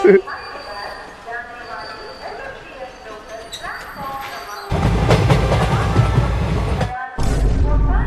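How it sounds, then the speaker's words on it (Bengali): A train rumbles in loudly with low booming and clattering noise that swells and briefly drops, while people talk faintly underneath. "ওই তো মনে হয় ট্রেনটা আসছে"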